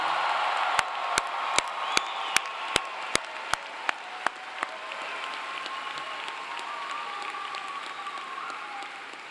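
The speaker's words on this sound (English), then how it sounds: "How about another loud round of applause for our newest master's degree recipients?" At a Clemson University spring commencement, a large crowd applauds master's degree recipients in a broad, steady wash of clapping, with a series of sharp, evenly spaced loud claps ringing out near the start before the applause carries on alone.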